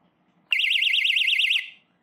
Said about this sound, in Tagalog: Try natin i-press kung mag-a-alarm nga.